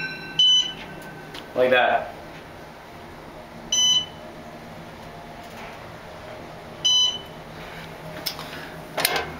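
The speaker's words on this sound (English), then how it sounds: "Look how it makes this alarm sounds." An Otis traction elevator's alarm gives short electronic beeps at irregular intervals, several in a row, over a steady background hum, with a brief spoken remark in between.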